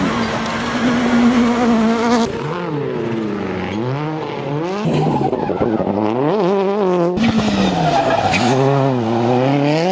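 At a rally start in Bursa, a rally car's engine revs hard and rises in pitch through repeated gear changes as it accelerates away, loud and close, with tyre skidding in the mix.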